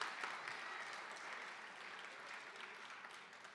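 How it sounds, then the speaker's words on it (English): An audience applauds steadily at a middle school eighth grade promotion ceremony, with dense, continuous clapping that tapers slightly toward the end. "Give them a round of applause."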